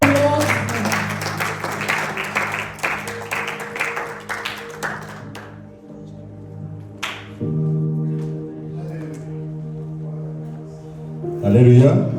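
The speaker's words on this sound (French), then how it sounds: "On acclame le Seigneur." A church congregation applauds and acclaims the Lord, with a few seconds of dense, close clapping that fades out. Sustained organ-like tones follow, and there is a voice near the end.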